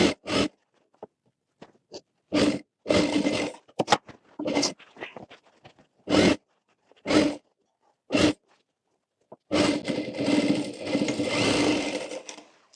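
Sewing machine stitching the centre seam of a kurti, heard as short separate bursts of motor whir with pauses between them, then one longer sustained run of stitching near the end, close and clear with no talking.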